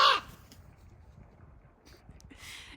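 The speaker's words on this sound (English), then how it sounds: "These crows are loud." Crows in the Rocky Mountains give one loud, close caw at the very start, then a fainter call returns near the end over a quiet outdoor hush.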